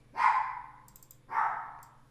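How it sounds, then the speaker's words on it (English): Two loud, close dog barks from a household dog indoors, each a sharp burst that trails off, spaced about a second apart with no talking. "My dogs are barking."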